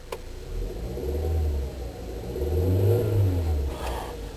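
A 2003 Volkswagen Jetta GLS engine revs twice, two rising and falling surges over a steady idle, close and fairly loud with no talking.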